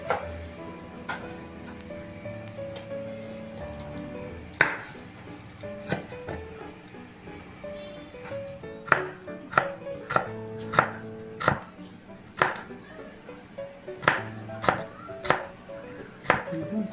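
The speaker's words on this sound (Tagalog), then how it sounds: "So maghihiwa na po tayo ngayon guys ng garlic and onions para po sa ating buttered tahong." A knife chops garlic and onions on a cutting board for buttered tahong, with sparse taps at first, then a run of sharp, evenly spaced close chops that quicken in the second half.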